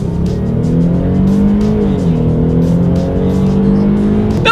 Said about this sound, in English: let's put the acceleration to the test here and let's see how quickly we can get up to speed in this 2019 Dodge